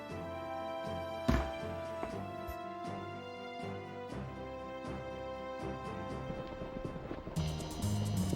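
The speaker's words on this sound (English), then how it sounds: "The horses are on the track." Steady rhythmic hoofbeats of racehorses galloping on a dirt track in a video game, under a constant mechanical drone, with a sharp thump early on and the pace continuing throughout.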